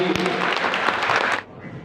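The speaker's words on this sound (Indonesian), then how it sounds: "Ya, tepuk tangan untuk Ustaz Sufi" Audience clapping at an Islamic foundation's iftar appreciation event, a brief burst of dense applause that cuts off abruptly near the end, with faint voices under it.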